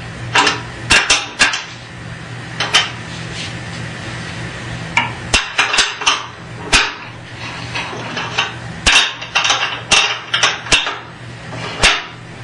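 Bottom bolts being tightened on a Shopsmith SS113 auxiliary table, giving sharp metallic clicks and clanks in irregular clusters, close and loud against a steady background hum.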